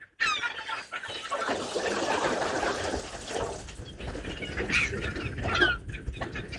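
Kelp gulls foraging for mussels on a rocky island shore give repeated harsh cackling calls, fairly close and overlapping, over a steady background wash.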